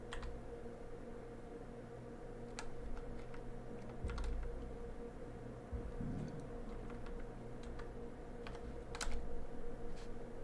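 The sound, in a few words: typing on a computer keyboard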